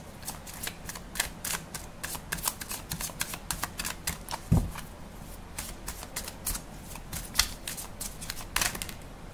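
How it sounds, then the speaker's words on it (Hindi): Tarot cards are shuffled by hand in a quiet room: a rapid, uneven series of close, soft riffles and card snaps, with one louder tap midway. "प्री शफल्ड है, फिर भी एक और बार शफल कर लेते हैं।"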